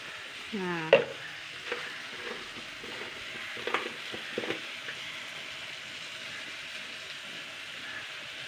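Chili, coriander and turmeric powder frying in a pan gives a faint, steady sizzle, with a brief squeak near the start and a few soft clinks of stirring.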